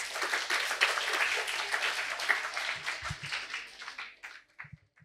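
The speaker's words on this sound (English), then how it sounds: "let us clap for every team, all of us" A crowd applauds with dense, sustained clapping that fades away over the final second, leaving a few scattered claps.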